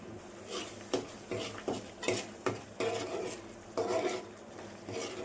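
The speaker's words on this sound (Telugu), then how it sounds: "అల్లం చిన్నులపాయ పేస్ట్ మొత్తం కలుపుకొని పచ్చివాసన పోయేదాకా ఉడికించుకోవాలి." Ginger garlic paste cooks in a pan for an egg keema masala curry while a spoon stirs it, giving repeated scraping strokes and light clatter over a soft, steady sizzle, with no talking.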